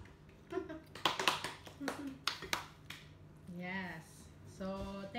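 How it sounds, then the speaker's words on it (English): People seated at a vegetable mukbang meal clap in a few sharp, scattered bursts near the microphone, with voices talking between and after the claps. "Long clap."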